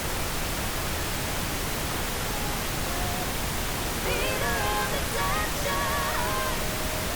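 Pink noise used as a reference for balancing a mix in Pro Tools, a steady broadband hiss throughout, with faint melodic tones briefly surfacing partway through.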